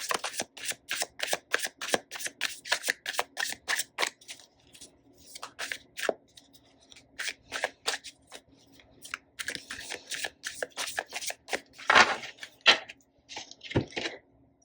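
Tarot cards riffled and shuffled in repeated crisp bursts of papery flicks, loud and close, with brief pauses between runs and a few sharper snaps near the end; no talking.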